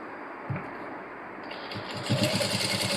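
A sewing machine stitches along the edge of an Anarkali dress with a close, busy whirr and quick mechanical ticking that grows louder toward the end.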